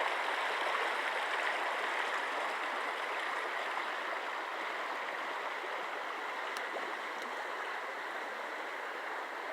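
Falls Creek in Falls Creek Park near Faribault, Minnesota, running high after heavy rain: a steady, broad rushing of flowing water that holds at an even level throughout, with no talk.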